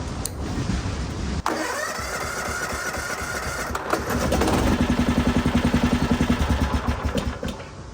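A racing lawn mower's small engine cranks with a starter whir, then catches and runs in a loud, fast rhythmic chug before settling to a lower idle.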